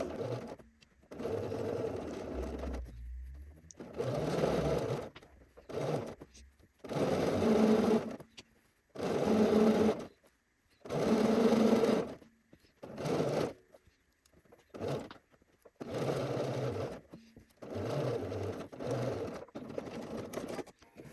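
A sewing machine bastes a collar onto a shirt neck edge in repeated bursts of rapid stitching, a few seconds each and separated by short pauses, close and clear.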